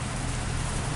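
Rain falling steadily in a visual novel game, a dense, even hiss that holds for a single second with no voices.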